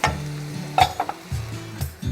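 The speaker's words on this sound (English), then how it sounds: "Give the peas a little stir." Peas being stirred in a pot on the stove beside frying chicken strips, a short burst of sizzling with a few scraping and clinking utensil taps over a low hum.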